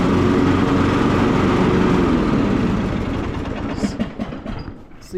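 A Cub Cadet LT42 XT1 riding lawn mower engine runs loud and steady, then winds down and cuts out as it shuts off automatically, leaving quieter rattles and clicks near the end.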